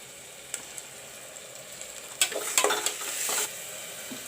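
Onions with ginger garlic paste sizzle in a pan for a curry, quiet at first and then brighter as the paste goes in, with stirring scrapes and short hissing bursts.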